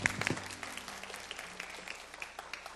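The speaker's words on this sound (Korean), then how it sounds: "감사를 주신 하나님께 영광의 박수 올립시다" Church congregation applauding during a youth worship service, a quiet spread of clapping that starts with a brief louder burst and tapers off.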